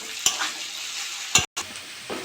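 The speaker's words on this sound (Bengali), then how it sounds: "গ্যাসটা কম করে আস্তে আস্তে এটা ভেজে নেব" Beetroot and potato frying slowly on low heat in a pan, a soft steady sizzle punctuated by a few sharp scrapes of a spatula stirring, close up with a brief cut in the middle.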